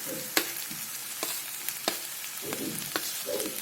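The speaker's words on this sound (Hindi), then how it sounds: "अब उसमें अगस्ती के फूल डालेंगे" Agasti flowers tossed into tomato frying in a pan bring repeated sharp clicks and scrapes of a spoon at an uneven rhythm, over a low steady sizzle.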